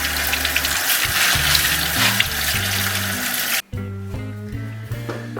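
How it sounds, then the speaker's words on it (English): Tap water runs hard over dried beans being rinsed in a kitchen sink, a loud continuous gushing splash that cuts off abruptly partway through, leaving quieter background sounds behind. "give the beans a good rinse"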